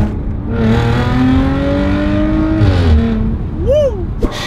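A BMW S1000RR sport motorcycle's exhaust on the road rises in pitch, then drops sharply through a downshift with crackling blips, close and loud with wind rush around it.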